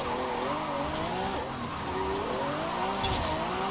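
Lamborghini Aventador Ultimae tires squeal steadily through a long slide in Forza Horizon 5, a wavering screech riding over a constant engine drone for the whole stretch.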